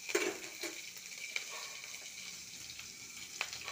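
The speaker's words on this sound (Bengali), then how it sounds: "ক্যাপসিকামটা একটু ভাজা হোক।" Capsicum frying in a hot pan gives a steady close sizzle, with a few sharp clinks and scrapes from stirring and utensils.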